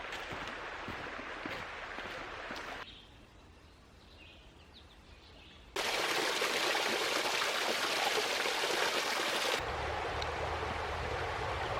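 Steady rushing water of a small brook trout creek, a broad continuous flow that shifts in loudness across separate stretches, with no voices present.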